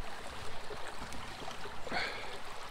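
Shallow water in a small English village stream flows and gurgles steadily around someone walking through it, with a brief brighter splash near the end, close and continuous.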